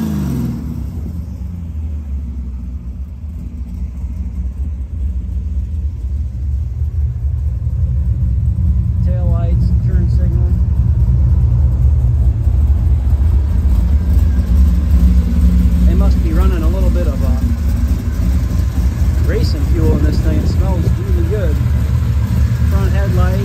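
A 1964 Chevrolet Biscayne engine runs at a steady idle, a deep low rumble that grows slightly louder partway through and holds, with faint voices talking underneath.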